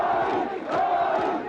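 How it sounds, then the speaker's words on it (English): A crowd of tens of thousands of supporters cheers and chants in a main street to greet the Philippine defense minister, a dense roaring swell of voices with rhythmic chant-like surges, loud and sustained. "The defense minister reaching the main street greeted by tens of thousands of cheering supporters."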